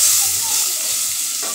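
Leftover marinade from honey garlic butter broiler chicken poured into a hot pan, giving a loud, steady sizzle and hiss right up close that lasts the whole moment, with no talking.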